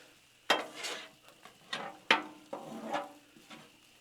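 Chicken stir fry being stirred on a Blackstone griddle: a few sharp scraping strokes of a spatula on the flat top with a light sizzle underneath, close and fairly quiet, with no voices.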